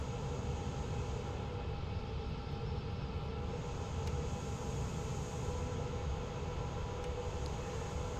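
An airliner taxiing toward the gate at Athens in Microsoft Flight Simulator 2020, a continuous broadband engine rumble and hiss that stays steady and fairly loud, with no voices.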